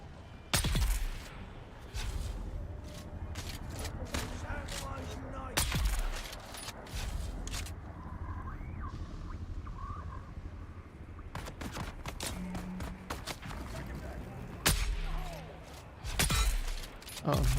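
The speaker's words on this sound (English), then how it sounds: "What the fuck is exploding?" Explosions and gunfire boom through a Dune Awakening endgame match: sharp, loud blasts and bursts repeat irregularly throughout, with quieter stretches between and a player's voice talking now and then.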